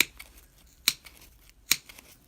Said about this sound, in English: Then I'm gonna start clipping my yarn right down that little valley.